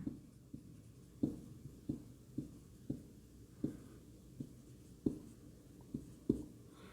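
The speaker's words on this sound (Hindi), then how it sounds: "मैं लिख देता हूं आपको, अरे यार दूसरी पेंसिल लिखता हूं।" A pencil writes on paper up close in a quiet room, giving faint, distinct scratchy strokes and taps at an irregular rhythm, roughly a dozen marks in succession.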